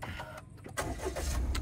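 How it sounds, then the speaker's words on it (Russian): A car engine starts by push button and settles into a low idle, heard close up inside a used car at a car market. "Дальше заводится автомобиль с кнопки."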